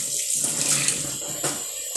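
A tap runs steadily nearby in a kitchen sink while dishes are washed, a continuous splashing water stream with no talk.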